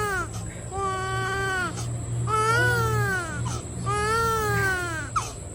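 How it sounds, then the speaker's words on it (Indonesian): An infant cries in three long, wailing bursts with short breaths between them, loud and close, heard in a theatre drama scene over a steady low hum. "ia terbangun karena mendengar suara tangisan bayi"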